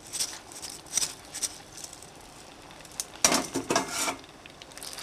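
Utensil scraping and clinking against a pot as ingredients are stirred back into sticky rice for arroz valenciana, with scattered clatters and a louder burst of scraping near the end.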